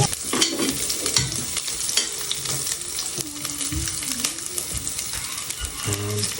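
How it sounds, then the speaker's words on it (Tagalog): Onion and garlic sauté in a pan as a utensil stirs and scrapes them repeatedly. The close, crackling sizzle runs throughout, with busy clattering strokes. "Igisa, igisa. Igisa natin."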